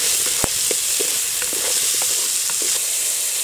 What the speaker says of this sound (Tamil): பூண்டு, வெங்காயம் நல்லா வதங்கிறதுக்காக உப்பு